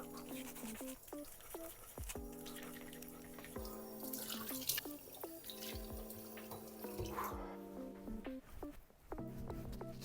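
Tap water running and splashing into a bathroom sink while a face is rinsed, a steady close wash of water with an intermittent melodic tone underneath, fairly quiet overall.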